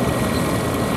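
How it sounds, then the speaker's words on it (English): A W4 tractor passes at a ploughing match, its engine a loud, steady, close rumble filling the short stretch. "if we take the tractor, that's a W4 that's just going past now"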